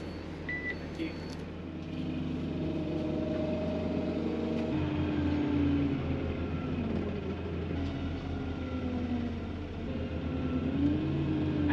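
The number 25 bus in Cornwall, heading from St Austell toward Fowey, pulls away from its stop with a steady diesel drone inside the cabin. The engine note swells slightly as it gets moving and then holds at a moderate, even level.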